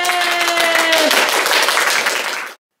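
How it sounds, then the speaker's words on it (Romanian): A crowd breaks into loud, sustained applause, dense clapping that holds steady for a couple of seconds before cutting off abruptly. "Aplauze furtunoase!"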